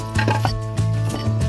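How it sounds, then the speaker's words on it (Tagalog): Onion being chopped and garlic crushed on a board gives a few quick knife thumps over a steady hum of background noise. "Hiwain natin yung sibuyas at pitpitin yung bawang."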